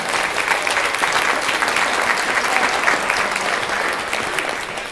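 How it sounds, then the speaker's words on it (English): Dense, continuous applause from a keynote audience at a conference, loud and even throughout with no speech over it. "round of applause for them"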